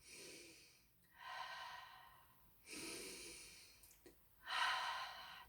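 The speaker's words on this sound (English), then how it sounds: "Taking deep breaths in and out and in and out." Slow, deep breaths in and out, audible and close, with three long airy exhalations separated by quiet pauses.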